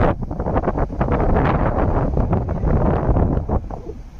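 Steady, loud wind buffeting the microphone, a continuous rough rumble with gusty surges throughout and no voices.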